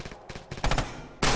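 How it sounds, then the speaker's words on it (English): Machine gun fire in a video game: short rapid bursts of shots in a quick rhythm, with a louder, denser volley closing the clip. "Clearly machine gun."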